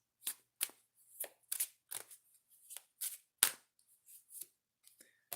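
Tarot cards are drawn and handled from a deck, making a quick series of crisp, close slaps and flicks, roughly a dozen bursts in uneven rhythm with brief silences between them.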